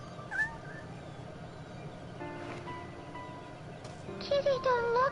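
A kitten meows in the Shenmue video game, a few short high cries near the start and a louder run of meows toward the end, set over a low, steady game background with some quiet game speech.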